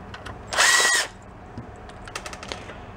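A power drill backs screws out of a Cushman meter maid vehicle, one short whirring burst of about half a second, followed by faint clicks and handling noise.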